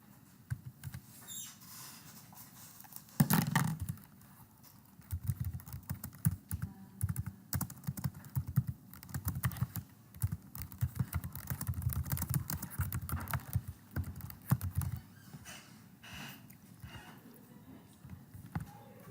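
Keys are tapped to enter decimal numbers during a math class. The tapping is faint and steady, a quick, irregular patter that runs almost continuously through the clip.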